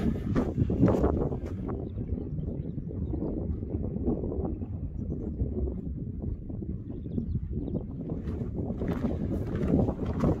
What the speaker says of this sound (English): Hope you can hear us because it's got quite windy.